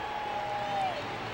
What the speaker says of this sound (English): here before a raucous crowd at Atlanta's Fulton County Stadium